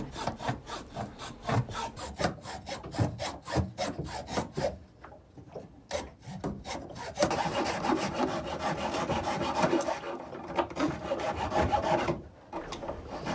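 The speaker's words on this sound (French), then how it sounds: "Dehors, on entend Damien qui s'occupe de poncer la partie de la mare" Sanding a repaired boat hull outdoors: rhythmic abrasive scraping strokes come in quick repeated passes, followed by a steadier continuous sanding rasp, fairly close and clear.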